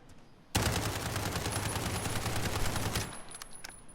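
A Striker 45 submachine gun in Call of Duty Modern Warfare fires one sustained automatic burst. It starts abruptly, runs loud and rapid for about two and a half seconds, then stops, leaving faint scattered clicks and echo.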